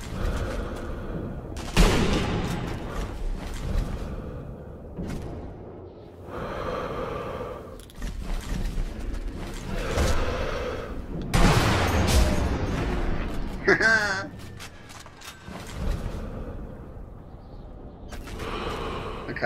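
Gunfire in the Sniper Elite V2 video game: scattered sharp shots and bursts break out at intervals, some loud and close, mixed with breathy game sounds and quieter stretches between them.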